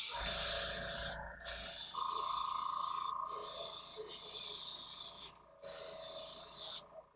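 An airbrush sprays thinned paint onto a Star Trek Nemesis drydock model in long bursts of steady hiss that stop briefly and start again, close and fairly loud, with a faint tone running underneath.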